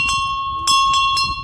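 An old hilltop temple bell in the mountains of Garhwal and Kumaon rings out in several sharp metallic strikes, each leaving a sustained ringing tone behind it, fairly loud and close.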